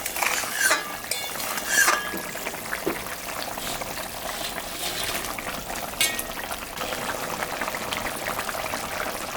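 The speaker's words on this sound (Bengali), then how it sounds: "ঝোলটা ফুটে গেছে, মাছটা এখন আমি দিয়ে দেব।" A pot of fish broth with vegetable stalks boils steadily, giving a continuous close bubbling and gurgling with a few brief clinks near the start.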